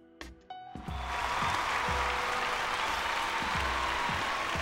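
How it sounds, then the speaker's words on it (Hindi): Loud, sustained applause rises at an award ceremony to welcome a Bhojpuri film actress, starting after a few brief musical hits and holding as a dense, steady wash of clapping with low drum beats underneath. "जोरदार तालियों के साथ स्वागत"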